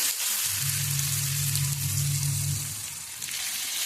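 A large sudha fish fries over a very low flame in a pan, giving a steady, continuous sizzle that holds evenly for several seconds, close and moderately loud, with no talking.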